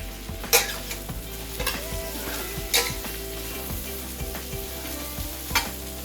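Onions, celery and garlic stir-fry over a maximum flame, with a steady loud sizzle and repeated clanking strokes of a utensil against the pan at an uneven rhythm, close up.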